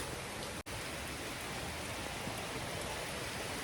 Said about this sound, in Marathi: खूप पाऊस पडतोय, जोरदार पाऊस आहे